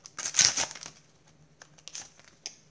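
A Panini 2018 World Cup sticker packet is torn open with a sharp, close crinkle of foil wrapping, loudest at first. A few softer rustles and crackles follow, with no talking.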